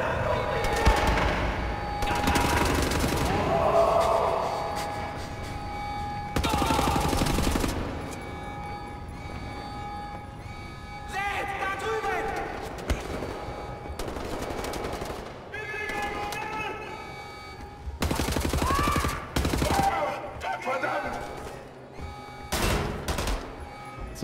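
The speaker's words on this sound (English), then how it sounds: "Now we have like a little burst fire gun too" Burst-fire gun in Wolfenstein: The New Order, firing in repeated rapid bursts of loud shots separated by short pauses, with game effects and a voice talking in between.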